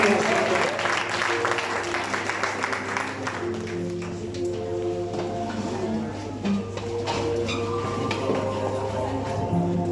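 A church congregation claps along during a worship service, steady clapping that runs throughout, mixed with voices and sustained musical tones.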